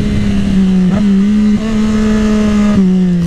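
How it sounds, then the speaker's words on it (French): A Triumph Daytona 675R three-cylinder sportbike holds a loud, steady engine drone close by, with a few sharp exhaust pops cutting in as the throttle eases off. "Quand tu lâches le petit filet de gaz, les retours"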